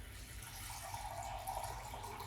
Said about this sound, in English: Now I'm going to take some water.